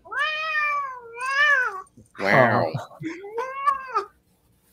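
A kitten meows several times in drawn-out, rising and falling calls at close range, with a short burst of human talk in between.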